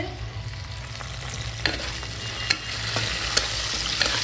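Broken cashews and raisins fry in oil in a pan for dal, a steady soft sizzle running throughout with a few sharp stirring clicks of a spoon against the pan.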